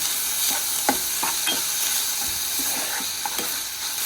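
Salt is stirred into a sizzling yogurt gravy in a pan, with continuous frying hiss and a series of quick spoon scrapes and taps.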